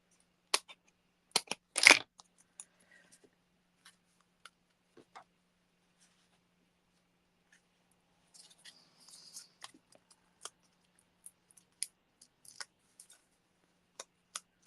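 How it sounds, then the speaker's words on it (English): Scissors snip along the edge of card paper for a handmade birthday card, a few sharp, quiet cuts separated by pauses, followed by faint rustling and scattered small ticks. "I just need a little snip down the edge"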